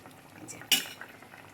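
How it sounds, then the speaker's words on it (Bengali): A spoon clinks once against a pot while stirring hilsa fish curry finished with mustard oil. It is a single sharp metallic knock, with soft scraping and faint simmering around it. "এবার এটাকে একটুখানি নেড়ে দিই, দিয়ে নামিয়ে দেবো"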